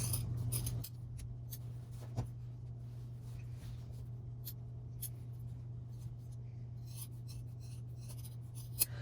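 Scissors snip through tote bag fabric in faint, scattered cuts over a quiet background hum, with a few short clusters of crisp clicks near the start and end.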